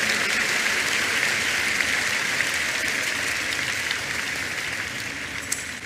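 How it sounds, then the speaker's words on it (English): A church congregation applauds loudly and continuously, a dense wash of clapping that holds steady and fades only slightly toward the end. "Give the Lord Jesus another big clap of you."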